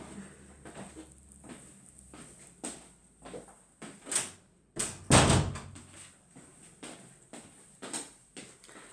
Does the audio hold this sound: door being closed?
yes